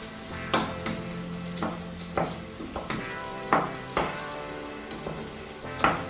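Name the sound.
spelt grains toasting in butter for risotto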